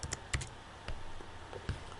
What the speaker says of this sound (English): you can proceed typing text here